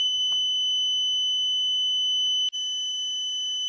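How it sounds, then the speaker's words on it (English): A green emergency door fire alarm sounds a loud, steady electronic tone after its button is pressed, continuing without a break apart from a brief dip near the end, with no talking. "Today I'm going to show you how my green fire alarm works."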